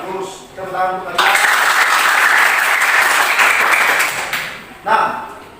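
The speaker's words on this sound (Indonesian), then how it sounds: "tepuk tangan untuk kalian" Students clap together in an Indonesian classroom during an economics lesson, a loud, steady burst of applause lasting several seconds, with a teacher's voice heard briefly before and after it.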